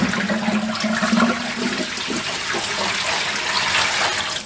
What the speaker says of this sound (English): That you wash your greens good.